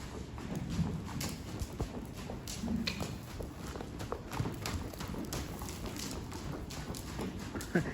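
Horse hooves clip-clopping at a walk on firm ground, a steady rhythmic series of thuds close by, with faint ambient noise.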